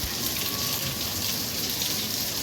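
Rain pours outside on a cold winter day, a dense, steady hiss of drops hitting surfaces, even and unbroken throughout.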